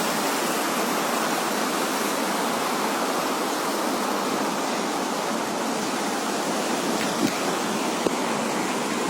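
Floodwater after cyclone Biparjoy rushing around a damaged house in Rajasthan, a loud, steady, broadband roar of flowing water that continues without pause and with no speech.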